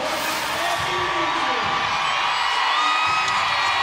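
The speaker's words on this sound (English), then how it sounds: "You can hear the crowd already getting excited for this final performance" Gymnastics meet crowd at a college arena cheering and whooping excitedly before a final routine, a loud, dense roar of voices with shrill shouts rising throughout.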